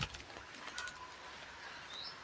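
A bird calls outdoors in a village during rain, giving a couple of faint, brief chirps over a steady background hiss.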